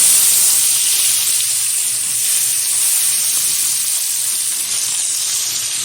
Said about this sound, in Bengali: এখন আস্তে আস্তে করে তেলে ভেজে নেব মাছগুলো।